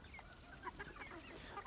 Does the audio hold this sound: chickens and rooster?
yes